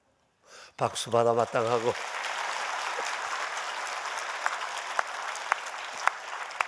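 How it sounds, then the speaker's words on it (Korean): At a dawn church retreat, a short spoken phrase gives way to a congregation's sustained applause for a vocal ensemble, a dense, moderately loud roar of clapping that continues evenly with a few sharper individual claps standing out. "박수 받아 마땅하고"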